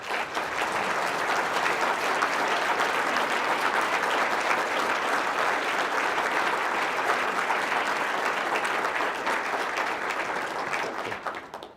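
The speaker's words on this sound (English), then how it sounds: "and Stephen please rise for a big round of applause." Crowd at a Veterans Day luncheon gives a long, loud round of applause, dense steady clapping filling the room for about eleven seconds before cutting off abruptly.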